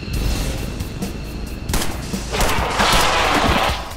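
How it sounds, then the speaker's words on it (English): Heavy gunfire in XCOM 2 Long War, with dense bursts of rapid shots and booming blasts swelling into a loud, sustained barrage, with no talking over it. "You have to lay down fire as you get onto the dropship."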